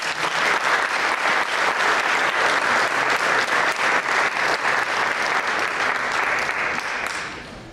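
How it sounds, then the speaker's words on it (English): A sustained round of applause from an audience at a chamber of commerce chef's challenge event, thick and even clapping from a crowd that holds steady for several seconds before tapering off at the end. "Can we have a round of applause?"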